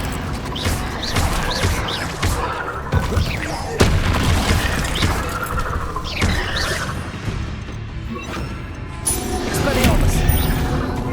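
Explosive Bombarda and Confringo spell blasts in Hogwarts Legacy, fired during a fight with spiders: repeated loud booms and crashing bursts at irregular intervals, close and punchy, mixed with shouted spell incantations.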